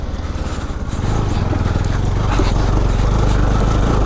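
A motorcycle's engine labors up a steep village road, a loud, close, throbbing drone with a rapid pulsing beat that rises in pitch and holds strong as the bike climbs.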